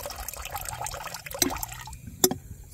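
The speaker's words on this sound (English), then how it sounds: "So that is awesome apple cider vinegar going into their water." Homemade apple cider vinegar splashing and trickling into cattle drinking water, a soft, uneven pour with a couple of sharper drips, close and without talk.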